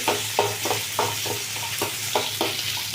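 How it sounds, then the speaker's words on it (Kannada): Onions fry in a pan for a moong dal dish, a steady sizzle broken by regular scraping strokes of a spoon stirring them, close and fairly loud with no talking. "ಈರುಳ್ಳಿ ಇದೆಲ್ಲ ಚೆಂದಾಗಿ ಫ್ರೈ ಆಗಲಿ"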